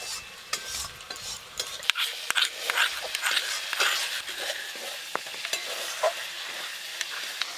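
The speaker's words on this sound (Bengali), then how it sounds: "আমি আদাটা ভালো করে ভেজে নিচ্ছি" Ginger frying in a pan for a Bengali fish curry gives a soft, steady sizzle broken by scattered clicks and scrapes of a spoon stirring, fairly quiet and close, with no talking.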